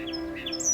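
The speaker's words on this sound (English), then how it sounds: "This streaky brown bird has a song that can vary region to region and can be rather hard to describe." Song sparrow, a streaky brown North American songbird, giving a short burst of high chirping notes, fairly clear and alone over a steady low background hum.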